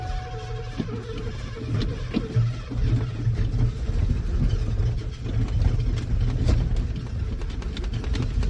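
Big-block V8 in a 1988 Ford F350 runs at a steady, loud low rumble close by, holding an even idle-like drone throughout with no voices.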